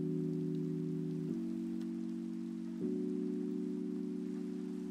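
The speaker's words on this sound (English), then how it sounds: "Fortunately, it's raining, so the water put the fire out immediately." Steady rain hisses in the Minecraft video game, a continuous even patter under a low sustained droning tone that shifts pitch slightly twice.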